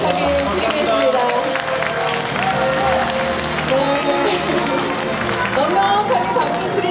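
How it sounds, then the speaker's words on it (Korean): Loud audience applause for the Uljin county governor at a town talk concert, a thick, sustained wash of clapping mixed with crowd murmur and voices. "손병복 울진 군수님께 다시 한번 큰 감사와 응원의 박수"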